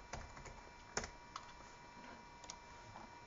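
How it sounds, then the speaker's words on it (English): Computer keys pressed on a laptop keyboard, a few sparse clicks and taps spaced irregularly, with one sharper press standing out, close and quiet with no voices. "So hold command and hit backspace"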